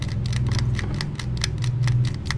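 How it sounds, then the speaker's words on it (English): A clicker monster in the horror game Spooky's Jump Scare Mansion gives a steady, rapid train of sharp mechanical clicks over a low droning background, with no talking. "I hear clicking."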